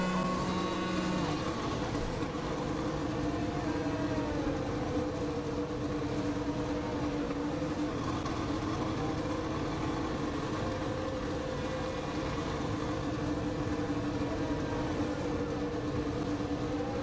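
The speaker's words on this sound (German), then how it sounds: "Motor läuft noch, jetzt ist aus." Steady, droning engine hum of a Formula 1 car in the F1 2020 racing game, a continuous even tone with no distinct revs, played at a constant moderate level throughout.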